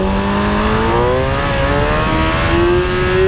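A motorcycle engine revs hard under heavy throttle during a wheelie, a loud, steady roar whose pitch climbs and steps upward in rising tones across the whole stretch, close and alone.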